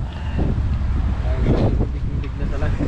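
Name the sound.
wind blowing at sea during fishing trip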